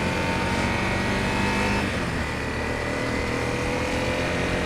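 A 2013 Honda CRF250L motorcycle rides on wet town roads, its engine a loud steady hum with constant wind and road rush close to the mic and no pauses.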